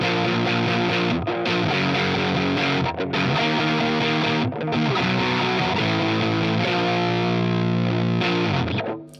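Heavily distorted electric guitar playing sustained chords and riffs, loud and fuzzy with hard clipping, ringing out continuously before fading at the end.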